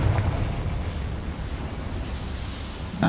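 A Confringo spell explodes in the video game Hogwarts Legacy, giving deep, rumbling blasts at the start and again at the very end, with a low roar sustained between them.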